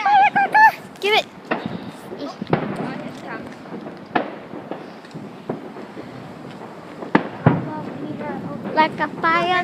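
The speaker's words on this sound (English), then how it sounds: "Oh, I love firecrackers." Firecrackers set off along a path crack in sharp, irregular bursts, some near and loud, others fainter, scattered over several seconds while people talk and exclaim throughout.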